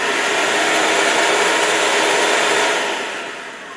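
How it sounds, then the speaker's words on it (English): Shop vacuum switched on by an Arduino-controlled mousetrap outlet roars loudly and steadily for about three seconds, then winds down as it shuts off. "you'll hear the vac come on for 3 seconds and then shut off."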